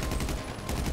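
Rapid gunfire in the video game GTA V Online, a dense burst of loud shots filling the short moment without talk.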